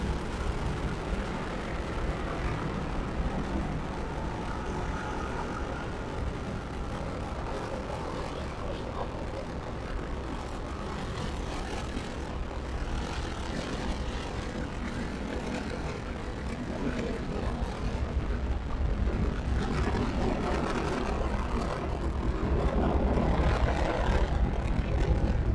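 A SpaceX Falcon 9 rocket lifts off from Cape Canaveral carrying the AMOS 17 satellite, producing a deep, continuous rumbling roar that builds slightly louder toward the end and is heard from a distance.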